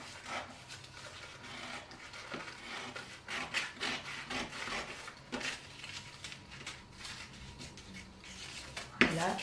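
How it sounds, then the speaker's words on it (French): A model horse's neck is cut by hand at close range, producing scratchy strokes that come in irregular bursts, with a sharp clack near the end. "je vais couper presque au bout."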